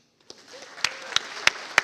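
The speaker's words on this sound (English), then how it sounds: "let's another round of applause for Osoyoos" A handful of separate hand claps ring out sparsely and moderately close at an annual water board meeting, with quiet gaps between each clap.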